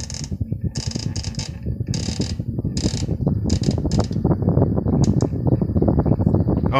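Emerson 36-inch brown friction drive ceiling fan at full speed, a steady loud mechanical whir with fast rhythmic ticking and rattling, broken by bursts of high hiss early on.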